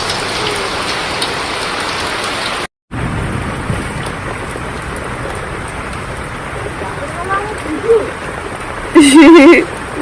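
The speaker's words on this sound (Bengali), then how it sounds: "এত বৃষ্টি হচ্ছে" Steady, heavy rain patters continuously, broken by a brief moment of silence; a short voice sounds faintly near the end.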